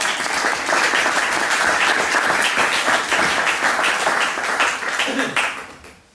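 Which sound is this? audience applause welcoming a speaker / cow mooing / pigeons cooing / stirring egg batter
audience applause welcoming a speaker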